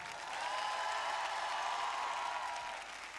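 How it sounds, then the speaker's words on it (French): A crowd at the Solidays Madiba event claps in a brief, steady burst that swells and fades slightly, with faint cheering or voices mixed into the wash of applause. "on l'applaudit bien fort, s'il vous plaît."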